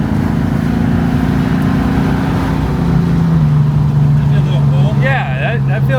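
Fastback Mustang engine droning at very light throttle while pulling uphill, a steady loud in-car hum with a slight pitch shift, and people talking over it.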